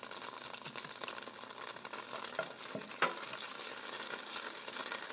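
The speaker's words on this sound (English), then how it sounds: "I do like using the olive oil with the butter together. Just make sure your butter is melting." Butter melting with olive oil in a pan for a seafood scampi pasta sizzles in a steady, close hiss, with a few soft scrapes of stirring and no talking.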